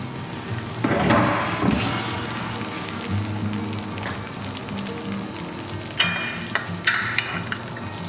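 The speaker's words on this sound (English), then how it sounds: "Sizzling away." A hot dish of polenta with mozzarella, fresh from the oven, sizzles steadily with crackling and popping, loud and close, with a few sharper clatters partway through and near the end.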